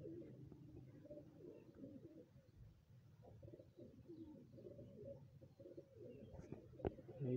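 A pigeon cooing softly nearby in low, repeated murmuring phrases, steady and quiet throughout, with a brief sharp knock near the end.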